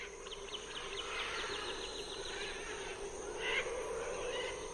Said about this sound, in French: Ici aussi, les oiseaux migrent au fil des saisons